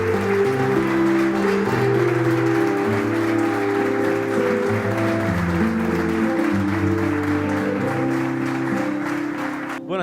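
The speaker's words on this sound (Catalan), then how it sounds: "hem vist que la gent estava molt emocionada, s'ha alçat, aplaudit" Audience applause at a book presentation in Alcoi, with dense, steady clapping and a strong low tonal layer running under it throughout.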